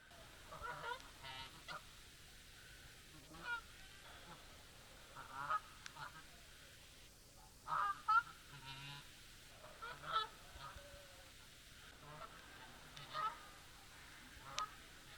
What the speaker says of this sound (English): And the geese have arrived back with their chicks.